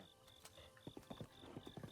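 Horse hooves clip-clop while riding in the video game Breath of the Wild, a quick, regular run of close, crisp hoof strikes over faint background ambience.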